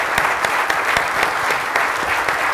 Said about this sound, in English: If everyone will give the panelists a round of applause.